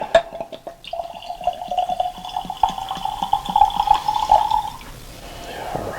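Bankers Club blended Scotch whisky pours from a bottle's built-in spout into a glass, a thin steady trickle lasting about four seconds with faint drips at the start, close and alone.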